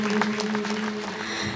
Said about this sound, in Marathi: एकदा माझ्या तरुण बांधवांसाठी एकदा जोरदार टाळ्या वाजवा